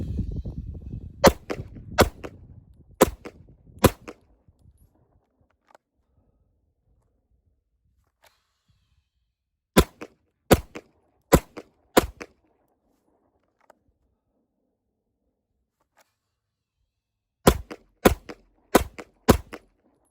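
Pistol shots during a Dot Torture shooting drill with a red-dot optic come in quick strings of four, sharp and loud, separated by long silent pauses, with some outdoor rustle and handling noise at the start.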